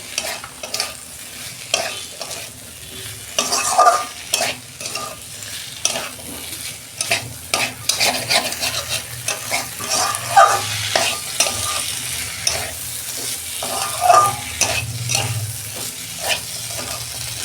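Drumstick stems and potatoes fry in spiced oil in a pan, with a steady sizzle under repeated scraping and stirring strokes of a spatula, close and fairly loud over a long stretch with no speech.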